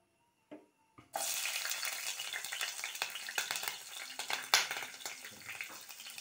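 Green chilies dropped into hot coconut oil in a pan, a sudden loud sizzle that settles into steady crackling frying, close up and without talk.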